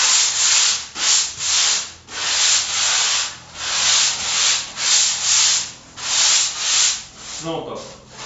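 Hand-sanding the tail bevel of a surfboard: rhythmic back-and-forth abrasive strokes, loud and close, about a dozen even passes with short pauses, ending with a brief handling knock.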